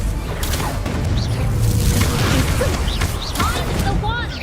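A Confringo fire spell blast in Hogwarts Legacy: a loud booming burst with whooshing and popping combat effects, layered in a busy game fight with voices over it.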